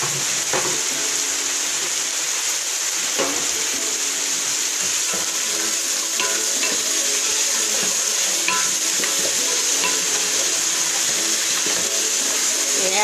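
Carrots and peppers stirred in a hot pan while making egg noodles give a loud, unbroken hiss of frying. Faint scrapes and clinks of the utensil sit under the sizzle all the way through.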